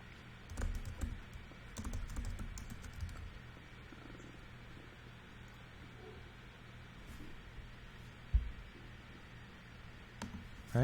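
Typing on a computer keyboard during iOS programming, with scattered faint clicks clustered early and a few later taps over a steady low hum, quiet and close.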